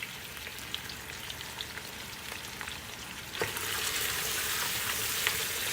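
Potatoes dropped into a hot pot for lentil soup sizzle and crackle steadily, the frying getting louder and fuller after a brief clatter partway through, with no talking.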